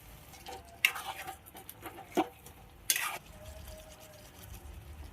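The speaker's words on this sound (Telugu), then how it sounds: "ఇలా వంకాయ వేసుకున్న తర్వాత ఒక 2 నిమిషాలు మొత్తం ఫ్రై చేసుకోవాలి" Stuffed brinjals go into a thick, reduced gravy in a pan, with a few sharp clinks and scrapes of a spoon against the pan over a faint, low sizzle.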